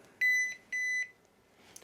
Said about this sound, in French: J'ai eu 2 bips, et c'est en tournant le volant que je passe d'un mode à l'autre